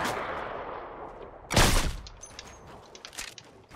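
Gunfire in Fortnite, one loud sharp burst rising out of a hiss of background game noise and then fading into scattered softer pops.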